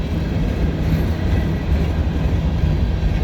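A CSX freight train passes nearby, giving a loud, continuous broadband rumble and roar of rolling wagons, including an old steel-sided boxcar, that stays steady throughout.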